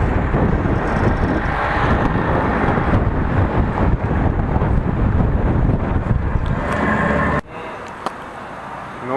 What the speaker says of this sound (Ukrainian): наконец-то мы едем в кузове